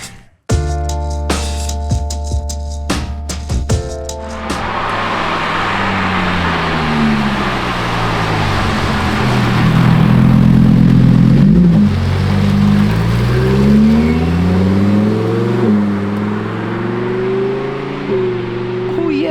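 After a few seconds of other tonal sounds, a Lamborghini V12 is heard passing on a wet road, its engine note rising and falling through several gear sweeps, loud and near, then fading slightly.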